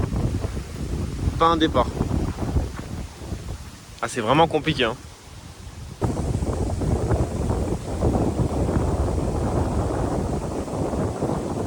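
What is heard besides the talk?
wind blowing at a carp fishing spot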